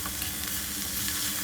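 Cabbage sambharo fries in a pan while a spoon stirs it, giving a steady, close, loud sizzle with faint scraping throughout and no voices.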